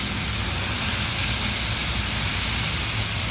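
A smashed beef burger patty sizzling on a hot griddle, a loud, dense, continuous hiss and crackle filling the whole moment without a break or voices.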